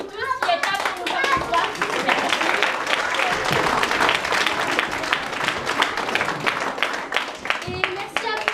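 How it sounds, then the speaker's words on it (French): Audience applause after a children's theatre show, dense sustained clapping from a crowd of hands, close and loud throughout, with voices mixed in. "un énorme tonnerre d'applaudissements pour vous tous qui êtes là pour nous voir"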